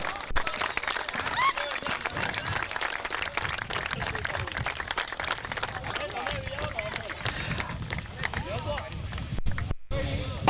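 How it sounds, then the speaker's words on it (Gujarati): Loud, sustained applause from a crowd at a night prize ceremony for a village premier league cricket final, dense clapping continuing throughout with voices mixed in. "જોરદાર તાળીઓ."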